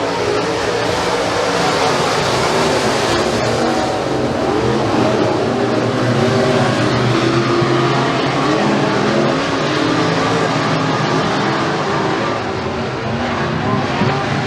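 RUSH Pro Mod race cars battle side by side at McKean County Raceway, a loud, continuous engine roar that stays dense and steady throughout with no pause.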